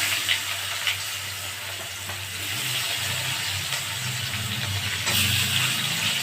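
Chopped onion sizzles in hot oil with a pinch of turmeric in a home kitchen while prawns are cooked with young jackfruit, a steady close frying hiss with occasional stirring scrapes and louder bursts.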